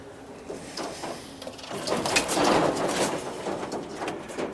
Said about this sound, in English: And out here I got an aviary. I got some extra birds in here.